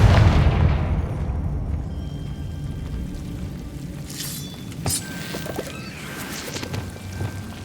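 In the video game Hogwarts Legacy, a Confringo fire spell explodes as a heavy boom that decays into a crackling, rain-like rumble. Sharp magical bursts and pops follow, with no talking.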